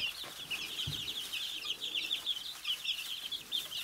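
Chickens cluck and chirp steadily throughout, a busy, moderately loud flock in a coop where wild bird seed has been scattered for them.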